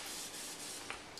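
An olive oil spritzer gives short, soft hissing sprays, close and fairly quiet, with a faint burst near the end and no talking.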